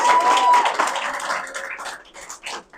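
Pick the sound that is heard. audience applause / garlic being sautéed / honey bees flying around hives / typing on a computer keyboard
audience applause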